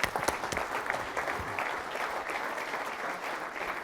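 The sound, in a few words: audience applause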